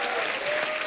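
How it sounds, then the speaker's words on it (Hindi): A studio audience applauds loudly and steadily at a comedy show, a dense, close wash of clapping through the whole short moment. "जोरदार तालियां हो जाएं आपके लिए"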